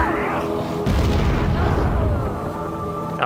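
A loud, booming explosion bursts in the American McGee's Alice video game, a heavy low rumble that swells and lingers for a few seconds, with no voices over it.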